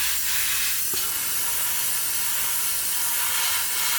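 An airbrush lays a thick wet coat of paint on a 1/48 scale P-40N Warhawk model, producing a continuous close hiss with a small click near the start, alone without talk.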